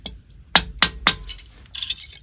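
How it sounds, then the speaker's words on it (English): Three sharp metallic strikes of a planishing hammer on folded metal sheet during foldforming, evenly spaced and close, ringing briefly, followed by a few lighter taps. "I'm going to now take our planishing hammer and confirm the second one"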